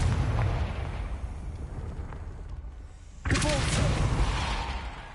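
The Confringo explosive spell cast in the video game Hogwarts Legacy produces a rumbling, crackling burst that rolls on, then a second sharp blast erupts loudly about halfway through and roars on close and heavy.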